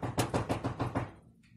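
A run of six or so quick, even knocks on a door, close and moderately loud, fading into quiet at the end with no talking.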